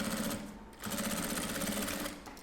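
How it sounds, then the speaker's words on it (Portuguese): A sewing machine stitches a seam on fabric for a small bunny-themed Easter vanity case, running in a steady, close, continuous buzz with a brief pause partway through. "eu vou passar uma costura, tá bom?"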